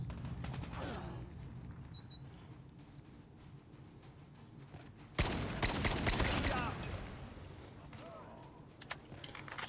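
SKS rifle fired in quick succession in a shooter game, a steady run of sharp shots with a louder, denser volley midway, and a voice talking over the gunfire throughout.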